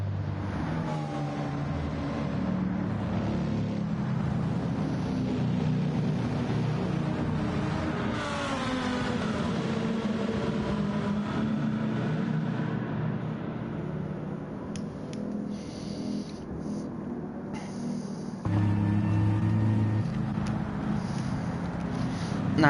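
Race cars from a Le Mans endurance racing game run at reduced pace behind a safety car, a steady blend of engine drone throughout with a louder engine note surging near the end.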